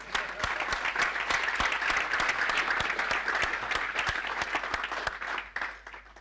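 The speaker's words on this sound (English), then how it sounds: "I would like to invite you to applaud yourselves." Audience applauding at a Google Developer Group DevFest tech conference in Porto, a steady, dense burst of many hands clapping that holds for several seconds and then begins to thin out near the end.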